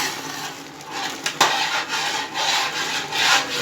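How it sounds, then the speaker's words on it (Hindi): A spoon stirring gajrela, carrot and milk pudding, in a pan over heat gives a steady, close scraping and rubbing sound, with a sharper knock partway through and no talk. "हमने अब आहिस्ता आहिस्ता 7 चम्मच चलाते रहना है और आँच को भी बेशक आप थोड़ा तेज़ कर लें।"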